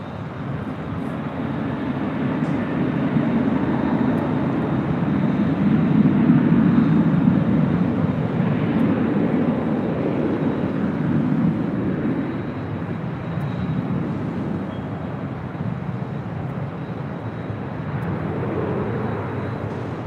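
A Southwest airliner takes off from runway 24 Left at LAX, a loud, sustained jet roar that swells and slowly fades with distance, heard alone with no voices.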